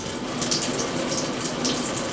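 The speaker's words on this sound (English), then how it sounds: "You got your shower water." Water sprays steadily from a homemade portable shower built to ride in a truck or car, a close, continuous hiss and splash with no talking.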